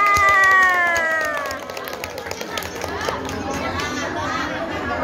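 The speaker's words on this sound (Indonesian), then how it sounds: "Kita tepuk tangan." An audience at a community gathering in Hong Kong claps and cheers, an initial burst of voices settling into a steady wash of applause and chatter.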